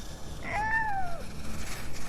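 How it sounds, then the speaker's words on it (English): A single cat meows once, a rising then falling call of moderate loudness, over a steady hiss of background noise in a quiet bedroom at night. "A cat?"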